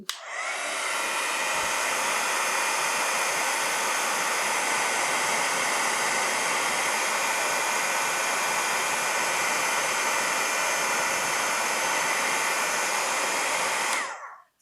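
A heat gun blows steadily for about fourteen seconds while heat-setting embossing powder on a card, a loud, even hissing roar that starts and stops abruptly, with no talking.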